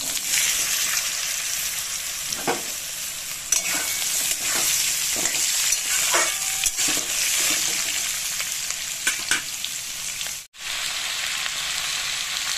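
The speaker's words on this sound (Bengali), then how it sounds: "এবার কেটে রাখা আলুগুলোকে তেলে দিয়ে দেব।" Cut potatoes dropped into hot oil with a few black cumin seeds, frying in a pan with a steady, close sizzle and occasional stirring scrapes, no voices.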